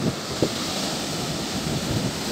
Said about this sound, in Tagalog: Malaki pa rin ang alon.